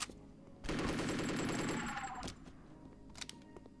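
A powerful gun in the PC game Chaser fires a rapid automatic burst lasting over a second, loud and close, followed by a few scattered clicks and shots.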